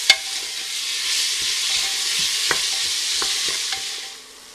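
Onions sizzle steadily in hot oil for a curry base, a broad continuous frying hiss with a few light utensil clicks, close and alone without talk.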